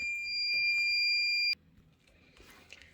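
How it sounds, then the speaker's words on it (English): Countdown timer on a heat press used to apply a design to a denim jacket, a loud sustained electronic beep lasting about a second and a half, then cutting off into quiet room noise. "Put the timer on for the countdown."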